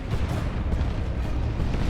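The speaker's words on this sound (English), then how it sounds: "This stick bomb is doing work." Stick bomb explosions in a Dawn of War 2 3v3 battle, a continuous rumbling barrage of deep booms and blasts overlapping one another, loud and dense throughout with no talking.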